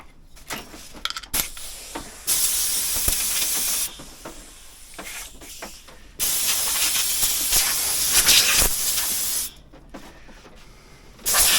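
A large air compressor hisses in a garage during towbar prep on a Morris Minor, in several long loud bursts of rushing air separated by quieter gaps, close and without talk.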